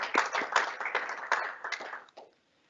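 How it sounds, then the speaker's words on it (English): A small meeting audience claps briefly, uneven close hand claps from a few people for about two seconds before stopping abruptly into quiet. "that deserves a big round of applause"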